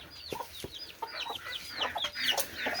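Chickens being fed cluck and chatter nearby in a farmyard, with a steady stream of short, overlapping calls at moderate volume.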